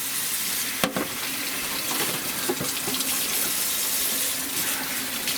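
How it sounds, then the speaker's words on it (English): Water runs steadily over plastic car trim being washed down while it is prepped for paint, a continuous close splashing hiss with a few brief knocks and clatters and no talk. "I want to wash this down. I want to wash all that scuff."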